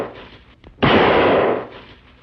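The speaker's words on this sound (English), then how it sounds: "A gun." A single gunshot from a played recording, a loud sharp burst that rings on for nearly a second before fading, set against a quieter background.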